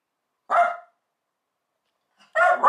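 A dog gives two short vocal bursts with a long silence between them, close and clear, sounding like a bark or brief howl in a quiet room.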